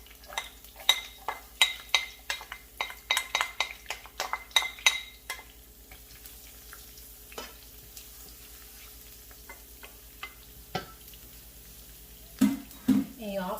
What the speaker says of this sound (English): So you can hear the oil sizzling like this.